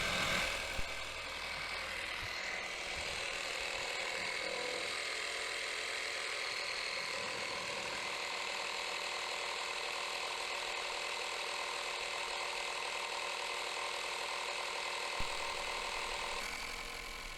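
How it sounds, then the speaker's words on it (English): Small portable tyre air compressor running continuously at close range for a DIY boost leak test, a steady buzzing, rattling mechanical drone that stays even throughout. "So while the compressor's going,"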